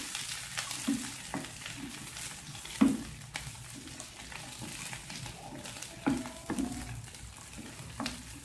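Onions frying in a pan for Kashmiri mutton rogan josh, a steady soft sizzle with occasional stirring scrapes and clinks at intervals, close by and moderately quiet, with no voices.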